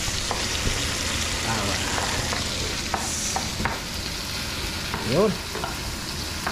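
Adobo cooking in a pan, with steady frying sizzle and scraping stirs throughout and a brief louder clatter near the end; a voice speaks a couple of short words.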